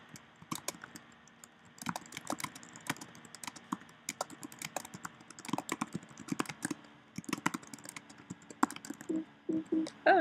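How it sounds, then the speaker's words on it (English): Typing on a computer keyboard comes through in quick irregular bursts of clicking keystrokes with short pauses, fairly faint and close, with no talking. "let me type that out"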